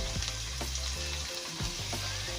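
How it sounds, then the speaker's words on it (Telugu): Green chillies and curry leaves fry in hot oil with a loud, crackling sizzle, while a utensil stirs them and makes a few brief scraping knocks. "పచ్చిమిర్చి కరివేపాకు వేసుకొని ఫ్రై చేసుకుందాం"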